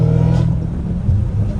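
A supercharged Dodge Hellcat Redeye V8 rumbles loud and close with a steady low growl, swelling slightly toward the end as the revs build, with no talking over it.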